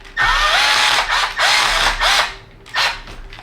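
A power driver tightens screws on a Traxxas-style SCX10 III RC crawler chassis, four short whirring bursts with ratcheting edges and brief pauses, close and loud, no voices.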